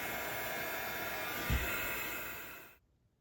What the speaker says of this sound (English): I took my handy dandy dryer and dried them so it would go really fast